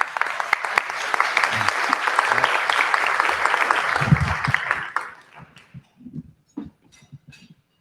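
An audience applauds loudly to welcome a speaker to the podium, a dense, sustained clapping that lasts about five seconds and then fades to scattered claps and soft thumps.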